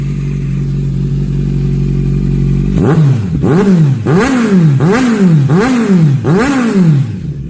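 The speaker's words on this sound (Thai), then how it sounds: "เสียงท่อแบบลั่นๆเลยนะครับ" A 2017 Kawasaki Z900 SE ABS motorcycle with a loud aftermarket Akrapovic exhaust idles, then revs sharply five or six times in a rhythmic series of roaring blips, very close.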